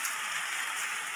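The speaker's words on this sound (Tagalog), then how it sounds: "Umuulan na." Steady typhoon rain falling on a surface, a soft continuous hiss at moderate level with no voices.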